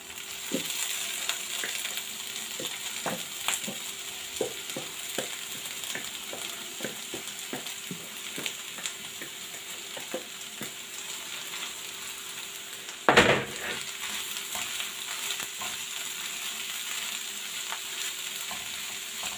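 Meat frying in a pan for hachis parmentier, a steady bright sizzle with repeated scraping stirs and one sharp clatter near the end, close and continuous without talk.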